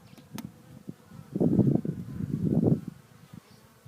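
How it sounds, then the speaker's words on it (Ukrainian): Carpathian honey bees buzz close by in rising and falling swells, the hum growing louder twice before fading to a quieter drone. "Бджола Карпатка."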